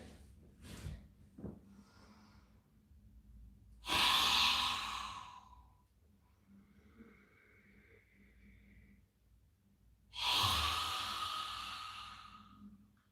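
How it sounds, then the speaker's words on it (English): Yoga breathing exercise: a long, deep inhale followed by a forceful, breathy exhale with the tongue out, repeated twice, close and loud, with quiet pauses in between. "breathing in really deep, and then exhaling quite forcefully with your tongue sticking out"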